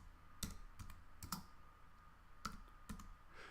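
Values typed on a computer keyboard into lab software while counting cells, sparse soft key clicks in small clusters, quiet and close, with no talking.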